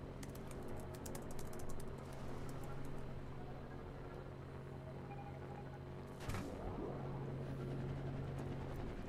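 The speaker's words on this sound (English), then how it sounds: "I'm trying to type" Keyboard typing in a multiplayer Trailmakers game session, a steady clatter of keys over a continuous low engine hum, with a brief louder burst partway through.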